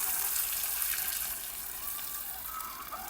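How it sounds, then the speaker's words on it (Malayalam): Water pours steadily into a bucket for making organic jaiva slurry from dung and powder, a continuous close splashing hiss with no talk. "ഇനി അതിനകത്ത് നമുക്ക് വെള്ളം ഒഴിക്കാം."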